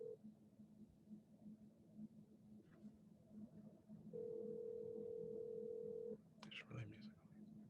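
Phone line while calling a US senator's office: a faint, low hum, then a long steady tone, ending in a few brief clicks, heard close through the handset with no talking.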